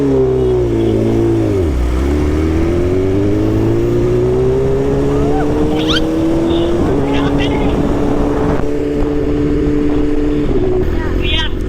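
A big bike motorcycle engine idles loudly nearby, dipping low and then rising into a sustained, climbing rev that holds steady with small shifts, while people talk over it.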